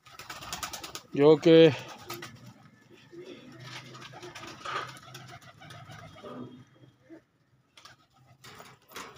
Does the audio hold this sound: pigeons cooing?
yes